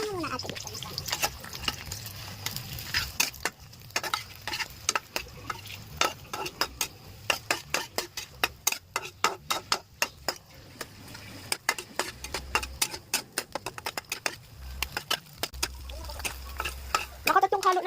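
Egg and hotdog fry in a pan while a utensil stirs and scrapes in quick, irregular clicks over a soft sizzle, with faint voices in the background.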